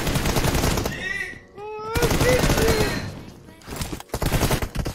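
Rapid bursts of automatic gunfire from a 2v2 team deathmatch in a mobile shooter game, loud and near, broken by a short pause, with someone talking over parts of it.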